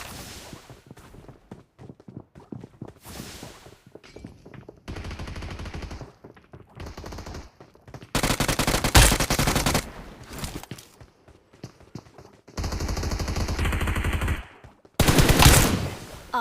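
Gunfire rattles during a firefight in the battle royale game BGMI, with bursts of rapid automatic shots and scattered single cracks alternating with quieter stretches of footsteps and movement, loud and close.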